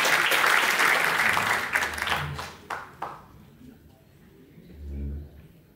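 An audience applauds after a live performance of an Azerbaijani folk song, a loud wash of clapping that thins out and fades within about three seconds, followed by a quieter stretch with a voice speaking.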